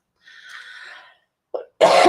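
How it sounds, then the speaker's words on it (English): A woman crafting with cardstock coughs, with a breathy rasp, a short sharp catch and then a louder harsh cough, close and clear in an otherwise silent room. "Excuse me, I've still got my bad cough."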